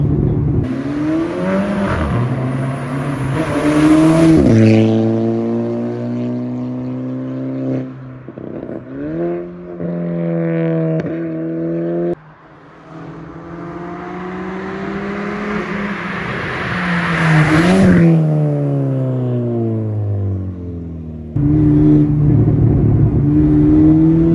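A loud tuned exhaust on a Stage 2 Golf 5 GTI revs hard repeatedly, engine pitch rising and falling with sharp crackling pops between pulls, close and continuous.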